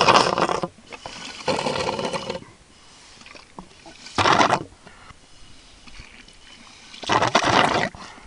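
A vacuum sucking water and debris out of a bedrock crevice while gold prospecting, with loud gurgling, slurping bursts in several separate pulses and quieter gaps between them.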